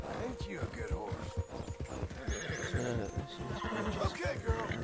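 A horse neighs and whinnies in the Red Dead Redemption 2 game amid soft hoof clopping and a low background hum, fairly close with no speech.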